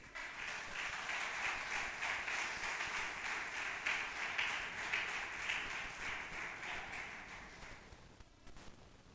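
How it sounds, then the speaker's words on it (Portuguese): A church congregation claps together in a dense, sustained burst of applause that holds steady for several seconds and then fades out near the end. "Aplaudem a Ele."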